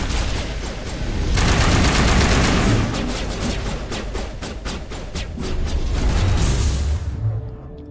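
Dense, continuous gunfire crackles through a Mass Effect Legendary Edition firefight, with rapid overlapping shots that stay loud and close throughout before cutting off abruptly near the end.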